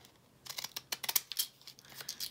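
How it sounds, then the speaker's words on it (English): Small postage stamp scissors snipping through paper for a vintage craft project, a rapid series of crisp close cuts with faint paper rustle in between, quiet and alone. "So, I have my postage stamp scissors handy."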